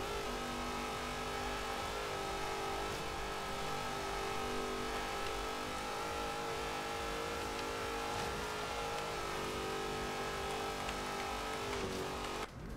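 Hot Wheels Twin Mill in Forza Horizon 3 holds a steady, loud engine drone for the whole stretch, with no pause in the revs and no voices over it.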